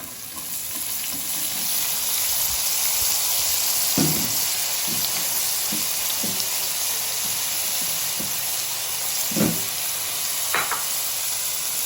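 Onion sizzles and fries steadily in a hot pan, a continuous crackling hiss with occasional stirring scrapes, close and fairly loud, no talking over it.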